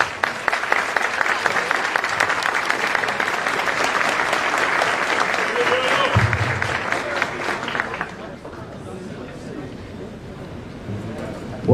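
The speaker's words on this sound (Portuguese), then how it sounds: "Por favor, uma salva de palmas." Sustained audience applause at a PSL political rally in Fortaleza, a dense wash of clapping from a large crowd lasting about eight seconds before fading into lighter crowd murmur.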